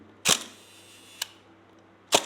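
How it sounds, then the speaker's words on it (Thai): Hasselblad camera shutter firing: two sharp, close mechanical clicks about two seconds apart with a fainter brief click between them, in a quiet room. "เราจะได้ยินแต่เสียงม่านที่สอง"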